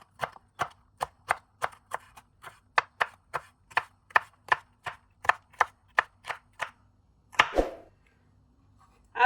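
Vegetables for pulao are chopped on a board in a quick, even series of about twenty crisp knife strikes, close and distinct against a quiet background, ending with a louder clatter.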